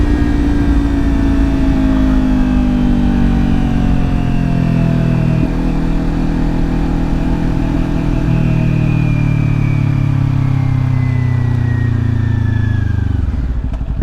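Kawasaki Ninja 400 motorcycle from 2022 with an upgraded exhaust, running loud and close for the whole stretch, its engine note rising and falling through revs before dropping away at the end.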